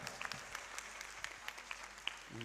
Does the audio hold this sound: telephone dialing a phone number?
no